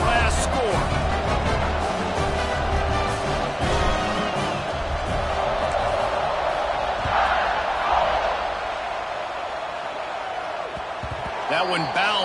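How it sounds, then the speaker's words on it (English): A stadium crowd at a football game keeps up a dense, continuous roar just after a score, with a commentator talking over the noise throughout. "this crowd is buzzing after that last score"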